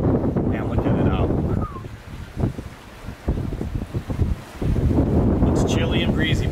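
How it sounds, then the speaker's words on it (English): Strong, chilly wind roars over a sailboat flying along under jib near Espiritu Santo, Mexico, buffeting loudly in gusts with water noise beneath and a voice talking in the middle. "It's chilly and breezy, but we are flying"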